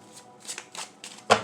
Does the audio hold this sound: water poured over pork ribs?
no